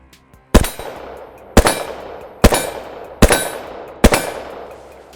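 Four loud, sharp Desert Eagle pistol shots fired at a steady pace at an outdoor range, each a sudden crack followed by a short ringing decay, with no talking.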